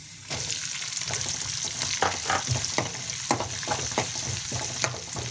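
Onions added to hot oil with fried chillies for a mixed-vegetable sambar, a bright continuous sizzle with rhythmic ladle stirring and scraping in the pan, close up with no talking.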